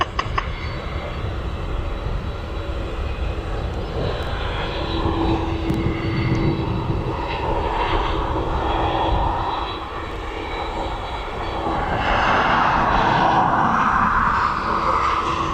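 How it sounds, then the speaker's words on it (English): Boeing 747 jet engines at East Midlands Airport, a loud, continuous roar with a steady whine that swells toward the end as the aircraft comes closer, heard alone without talk. "The real Boeing 747"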